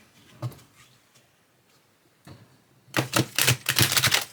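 Cards from an oversized oracle deck shuffled in a quick riffle: a few soft flicks first, then a dense, loud burst of rapid fluttering clicks at close range.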